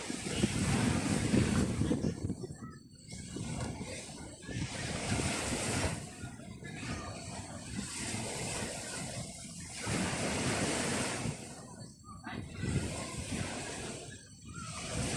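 Waves wash in and out along a seashore in steady surging rolls, with heavy wind buffeting the microphone throughout and faint voices now and then.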